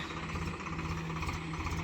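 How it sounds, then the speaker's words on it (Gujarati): A steady, low tractor engine drone rumbles continuously with a constant hum nearby on a farm during pesticide spraying, without any voices. "ટ્રેક્ટર ચલાવી રહ્યા છે"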